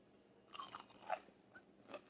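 A few crisp crunches of a fried pork cutlet (tonkatsu) being bitten and chewed close up, spaced out over a couple of seconds, quiet otherwise.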